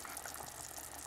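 Salsa simmering on a stovetop burner, a steady close bubbling and hiss of boiling liquid with no voices.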